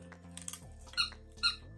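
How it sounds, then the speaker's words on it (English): A Kong Duramax squeaky dog toy ball squeaks twice, short sharp high-pitched peeps about half a second apart, over a faint low hum. "This is a Kong Duramax, and this says squeaks."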